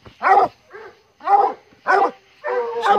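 A coonhound hunting in Arkansas gives four loud, close barks in an uneven rhythm, with softer whimpering yelps in between.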